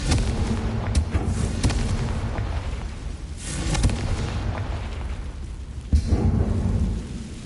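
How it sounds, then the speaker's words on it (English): The Confringo spell in the Hogwarts Legacy video game blasts beds apart in a haunted Hogsmeade quest. Loud, deep booming explosions sound at about three spaced moments, each with a rumbling tail, and no talk over them. "Confringo. Let's get rid of those beds."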